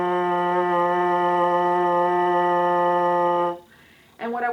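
Lip buzz blown into a baritone horn mouthpiece, a steady sustained pitched drone lasting about three and a half seconds, then a short pause and the start of a second buzz.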